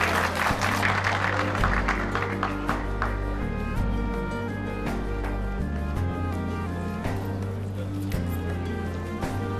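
A crowd at a Milli Görüş Kutlu Doğum celebration in the Netherlands applauds to welcome guests, a brief burst of clapping mixed under loud, continuous music that fills the rest.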